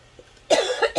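A single sharp cough followed by a couple of quick, raspy follow-up coughs from a nearby person with a scratchy, tickling throat, close and clear after a brief quiet lead-in.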